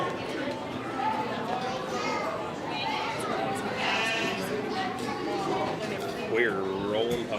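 Lambs bleat at a livestock show ring in a noisy arena, several calls rising over continuous crowd chatter and children's voices.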